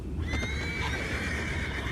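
A horse in Red Dead Redemption 2 neighs in a drawn-out, wavering whinny over a steady bed of low background rumble, with faint clip-clop hints underneath.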